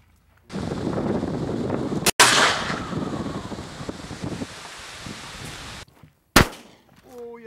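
A shotgun blasts at doves on a dove hunt: a sharp crack followed by a long, noisy roar of wind and rustling, then a second loud shot near the end as a voice calls out faintly.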